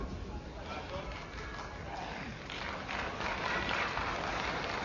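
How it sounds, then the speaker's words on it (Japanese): A crowd applauds at an All Japan Pro Wrestling match in Osaka's Higashiyodogawa gymnasium, a distant sustained clapping that swells toward the end under crowd noise and an announcer's talk. "拍手が起こります。"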